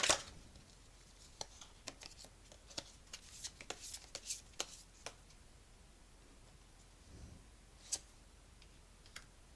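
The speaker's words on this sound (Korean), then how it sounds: "성격은 어떨지 카드 뽑아볼게요." Tarot cards drawn from a deck, giving scattered crisp snaps and flicks, quiet and close, with a brief card riffle at the start and near silence between touches.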